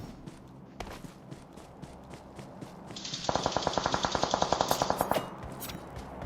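M4 rifle fire in PUBG Mobile on an iPad Mini 6: a loud, rapid automatic burst of about two seconds with evenly spaced shots, preceded by soft in-game footsteps.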